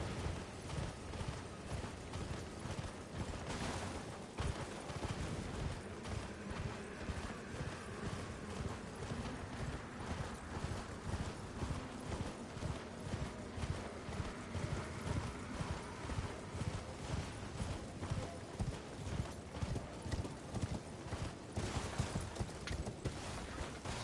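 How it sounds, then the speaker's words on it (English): Horse hooves gallop in a steady, rhythmic clip-clop throughout as a mount is ridden in the video game Elden Ring, continuous and moderately loud with no talk over it. "Just want to ride the horse."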